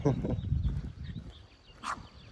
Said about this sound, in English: I got a dog down there barking.